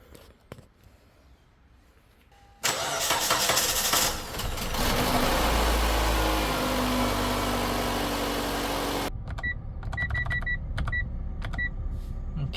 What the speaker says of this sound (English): We are going to start the car and see how it goes